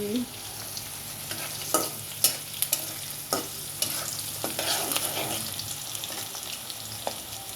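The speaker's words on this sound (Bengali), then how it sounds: "পেঁয়াজটা একটু ভেজে নিচ্ছি।" Onions frying in a pan for a dried-fish curry, a soft continuous sizzle broken by sharp scraping knocks of a spatula stirring, close and fairly quiet.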